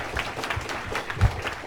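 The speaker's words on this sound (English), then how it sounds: "Okay, round of applause." Brief, fairly soft round of applause from a conference audience closing a technical session, a diffuse patter of hands with no voices over it.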